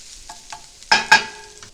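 Spicy Italian sausage frying in a skillet gives a low sizzle while a utensil stirs and scrapes. Two sharper clattering scrapes stand out near the middle, and no one talks.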